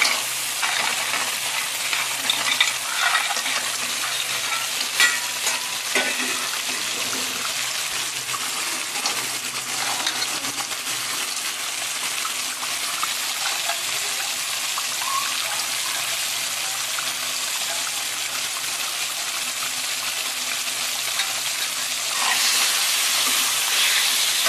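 Crabs drop into a pan of fried spice paste and sizzle steadily, with stirring scrapes and a hissing crackle that holds for a long stretch, then grows louder near the end.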